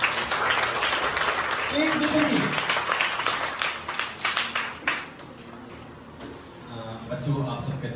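A crowd at a Teachers' Day celebration claps in sustained applause, with someone speaking over it partway through before the clapping fades out.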